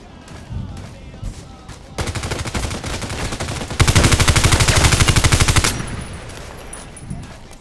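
A Colt IAR rifle fires in the shooter game Contract Wars, first in one long automatic burst and then in a second, louder burst of rapid, evenly spaced shots. Each burst runs several seconds, and rock music plays faintly underneath.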